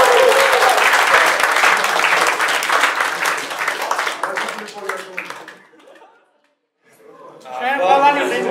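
An audience at a Georgian rap battle applauds after a round: dense clapping fades out, a brief silence follows, and then a voice speaks.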